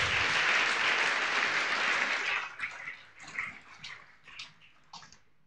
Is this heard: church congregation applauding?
yes